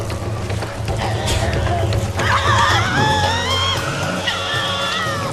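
Tasmanian devils scream aggressively in a forest, with harsh, wavering high-pitched shrieks that rise mid-clip and continue over a steady low rumble of background noise.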